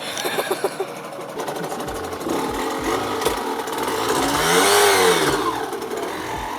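A small motorbike's two-stroke engine buzzes and revs up and down, its pitch rising and falling, loud and close throughout with a brief rattling start.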